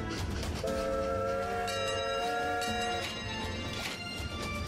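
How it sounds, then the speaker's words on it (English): Trains running in the railway video game Train Valley, with several steady electronic horn-like tones layered over a continuous rumbling backdrop, fairly quiet and without talk. "More trains!"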